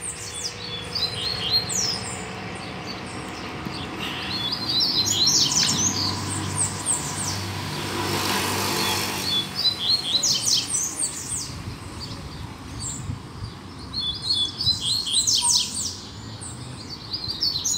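A wild double-collared seedeater (coleiro) sings outdoors in nature, its repeated bright chirping phrases ringing out over steady ambient background noise, joined by other distant birds.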